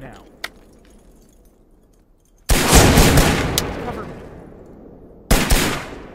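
Grenade blast followed by gunfire in the tactical shooter Thunder Tier One, a loud close explosion with a long rumbling decay, then another sharp heavy burst, after a quiet stretch with a single faint click.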